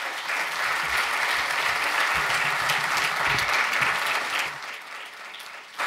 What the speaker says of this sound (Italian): Un applauso a Martina Emisfero da Melzo